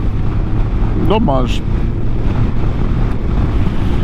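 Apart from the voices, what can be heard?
wind noise while riding a Honda motorcycle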